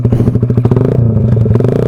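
Suzuki Raider 150 motorcycle with an RS8 clutch lining, engine running loud and close while riding, with a steady throbbing low drone and rapid rhythmic pulsing clatter throughout.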